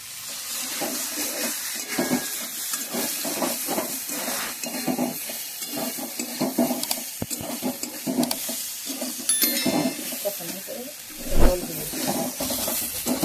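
Spice masala sautéing in a pan for potol after a splash of water, with scraping stirs and spatula knocks in an irregular rhythm over a soft sizzle, and no voice.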